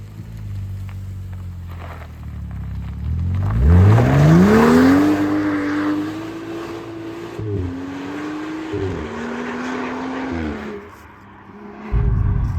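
A BMW M135i with the N55 engine pulls away on a test drive, its engine note rising steadily as it accelerates, then holding and shifting pitch through gear changes, loud and close from inside the car.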